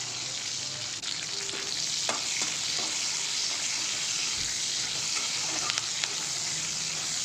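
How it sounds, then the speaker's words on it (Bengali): Chilli, garlic and onion hit hot mustard oil in an iron wok, giving a steady, close sizzle and crackle that holds for several seconds, with a few faint clinks of stirring and no voices. "তেল গরম হয়ে গেছে, এই সব কটা লঙ্কা, রসুন আর পেঁয়াজ কিন্তু একসাথে দিয়ে দিলাম।"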